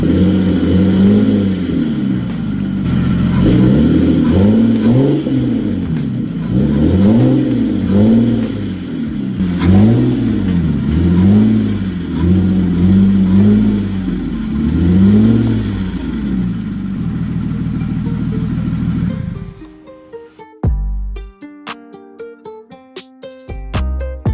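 A Lexus GS300 engine on a cold start, revved repeatedly in even, rising and falling swells that are loud and close. The engine note then cuts away to sharp clanks and knocks in a shop.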